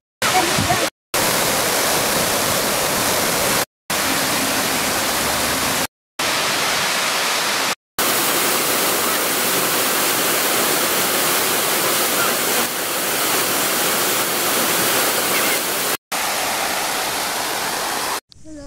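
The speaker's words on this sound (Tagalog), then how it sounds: "we're going to Taitam Waterfalls" Broad roaring wash of a waterfall at Tai Tam Reservoir after rain, loud and steady throughout, broken by several abrupt cuts to silence.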